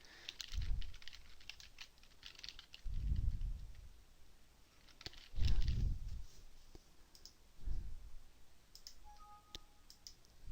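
Computer mouse clicks while working in Dreamweaver CS4 page layouts, four soft clicks with broad low thumps spaced a couple of seconds apart, quiet and close, with no talking.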